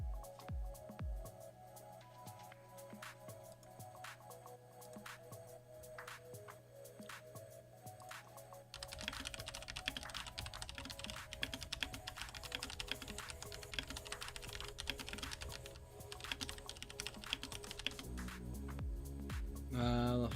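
Computer keyboard keys are typed in a steady run of quick clicks, with a hum and some background noise that grow louder partway through.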